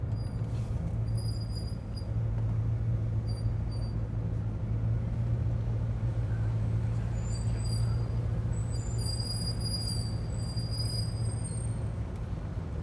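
Bugatti Veyron 16.4 Super Sport, a $3 million supercar, driving with a steady, loud low engine drone and road rumble from inside the cabin, continuous throughout.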